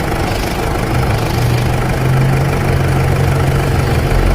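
A Mitsubishi Pajero engine idles steadily and close by, a continuous low rumble with a faint hum. It stays even throughout with no voices.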